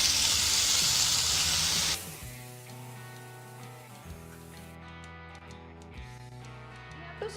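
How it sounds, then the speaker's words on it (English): Spinach sauteing in a teaspoon of oil in a pan over a medium flame, loud close hissing sizzle for about two seconds, then fading under sustained tonal music. "Saute spinach on a medium flame just for 1 to 2 minutes"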